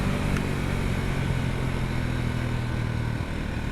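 A Sothassi Classic 400 retro motorcycle ridden on a road in Pakistan, its mid-pitched engine droning steadily and close, with a constant throb and no talk over it.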